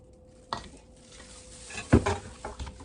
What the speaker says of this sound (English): So I'm going to keep stirring as I scoop.